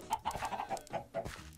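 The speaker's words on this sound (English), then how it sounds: "Oh, I see a bunch of chickens, too." Chickens in the Minecraft video game cluck in a quick run of short, bright, pulsing clucks, fairly close and clear, with no talk over them.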